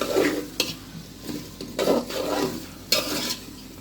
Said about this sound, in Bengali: আলুগুলো এখান থেকে আমি 4 থেকে 5 মিনিট কষিয়ে নিব